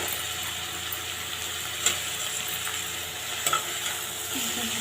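Green chilies, onions and cauliflower stirred and frying in a pan: a steady close sizzle with a few sharp scrapes of the spoon against the pan, and no talking.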